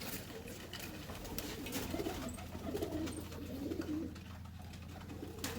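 Pigeons cooing at a loft in Dina, soft repeated low coos close by over steady background hum, with faint chatter of birds throughout.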